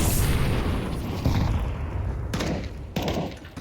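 Grenades and gunfire burst in a Counter-Strike esports grand final, a dense rumbling fusillade with two sharper loud blasts near the end.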